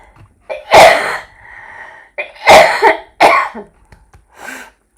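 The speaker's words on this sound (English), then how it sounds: "of course I'm going to start coughing" Several loud, harsh coughs close by, coming in bursts with a raspy breath between them, no talking.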